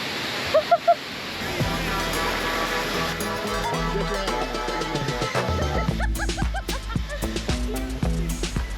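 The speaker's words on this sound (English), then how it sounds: "we're gonna get pretty close to the actual waterfall" A waterfall in Fiji roars steadily from close range, a broad continuous rush of falling water, with a few short sharp sounds near the start and people talking faintly over it.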